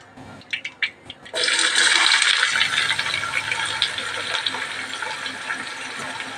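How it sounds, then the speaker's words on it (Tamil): Onions tipped into hot oil for mutton biryani: a few light clicks, then a sudden loud, steady sizzle that keeps hissing and crackling to the end, with no talk. "இப்போ வெங்காயத்தை போட்டு வறுத்து எடுக்கலாம்"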